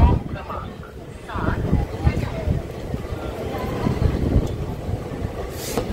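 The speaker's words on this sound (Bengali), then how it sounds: "আমাদের ট্রেন এসে পৌঁছালো ব্যান্ডেল স্টেশন" Black Diamond Express train rolling into Bandel station, a low rumbling clatter and wind rush heard from inside the carriage, steady with slight swells, under a voice talking.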